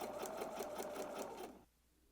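A sewing machine stitches a skirt hem seam with a facing in a fast, steady run of close needle strokes for about a second and a half, then stops, leaving a faint quiet tail.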